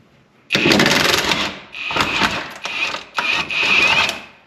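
Impact wrench rated near 900 foot-pounds hammering loose a rear long arm bolt on a Jeep WJ, loud rattling bursts in three sustained runs with brief pauses between, close up with no talk.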